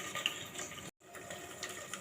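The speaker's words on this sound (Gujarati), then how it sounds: "તો પાણી બધું આપણે નાખી દઈશું કુકરની અંદર" Water poured from a vessel into a pressure cooker holding a drumstick and gram-flour curry, a faint, steady splashing rush broken by a brief pause.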